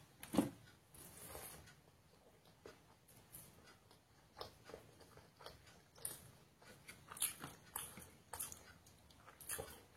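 Spicy chicken curry with basanti polao being eaten, with soft irregular chewing and biting crunches close to the mic, faint and scattered across the clip with no talking.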